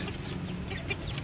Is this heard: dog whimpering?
no